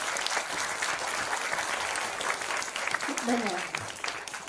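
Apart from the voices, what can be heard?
applause from school audience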